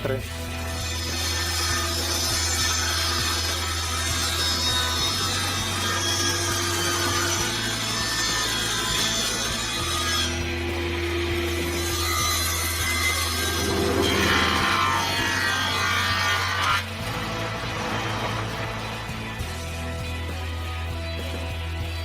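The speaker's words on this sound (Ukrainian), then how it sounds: "Потім від неї відрізав бруски шириною 42 мм." Wooden bars 42 mm wide are cut from a board with a steady rasping saw under a constant low machine hum, the cutting changing tone and pausing between strokes.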